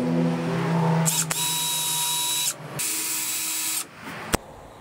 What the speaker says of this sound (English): So I'm gonna drill holes and then I'm gonna tap screws through.